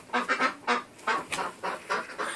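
A goose inspecting new bedding honks repeatedly up close, about ten short nasal calls in quick, uneven bursts.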